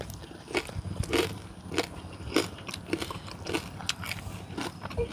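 Crispy fried pork belly crunched between the teeth in loud, close bites, about one sharp crunch every half second, with chewing between them and no talk.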